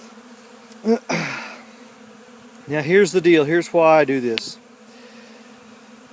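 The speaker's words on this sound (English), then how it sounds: "lots of bees from all over" Many honey bees buzz around a winter feeding spot, a steady droning hum running throughout while someone talks over it close by.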